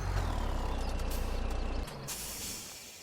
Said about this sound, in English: let me stop this truck